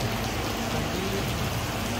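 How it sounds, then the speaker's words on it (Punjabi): Heavy rain pouring during an outdoor pre-wedding shoot on Sarhand Road in Chandigarh, a dense unbroken hiss of drops on surfaces, loud and close throughout. "ਬਹੁਤ ਜ਼ਿਆਦਾ ਬਾਰਿਸ਼ ਆ"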